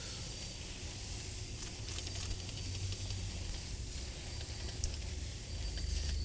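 EcoSmart cleaner is pumped from an atomizer sprayer into a car wheel well full of brake dust and grime, producing a steady, soft hiss with a few brief spray bursts and no talking.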